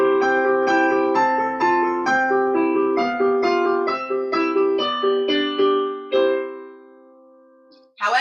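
A piano plays the melody of Twinkle Twinkle Little Star in a major key, a steady run of clear sustained notes and chords that rings out alone before fading, with a brief noise at the very end.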